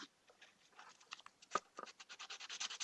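Light, quick strokes of sandpaper rub across a glued plastic melee prop handle, faint at first and then growing into a steady rhythmic scratching, close up and alone.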